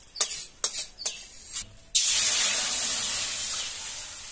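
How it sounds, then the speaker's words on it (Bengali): Whole spices (cloves, cardamom, cinnamon, dried chillies, cumin and coriander) are handled in a pan with a few sharp scrapes and clatters, then a loud, steady hiss takes over and slowly eases. "লবঙ্গ, এলাচ, দারচিনি, শুকনো লঙ্কা, জিরে, ধনে, এটা আমি ভাজছি।"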